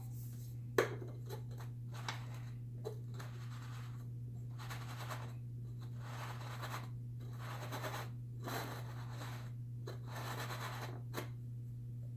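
Quiet scratchy strokes of a pen marking a line across paper, several short bursts with pauses between, over a steady low electrical hum.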